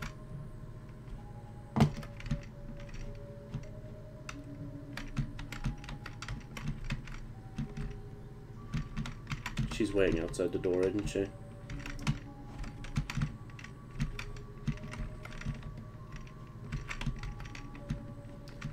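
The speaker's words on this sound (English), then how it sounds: "you could hear me furiously typing on the keyboard a lot more now" Rapid, furious clatter of a computer keyboard runs almost nonstop at close range, with bursts of keystrokes and a brief spoken line partway through over background game sounds.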